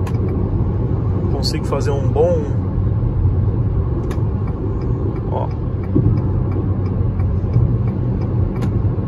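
Jeep Renegade Longitude 1.8 Flex (2021) running on gasoline while driving uphill, a steady engine and road rumble heard from inside the cabin, with someone talking briefly over it.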